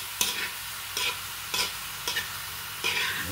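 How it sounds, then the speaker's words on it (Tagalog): Bamboo shoots are sautéed in a pan without fish or shrimp, spatula strokes scraping in regular bursts about every half second to second over a constant sizzling hiss. No voices. "Tapos na natin igisa."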